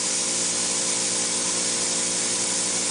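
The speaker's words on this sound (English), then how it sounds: "The type of a gun that he's using is actually a flex head pole gun" A flex head pole gun sprays hot pipe coating in a continuous, loud, even hiss, with a steady machine hum beneath and no breaks or voices.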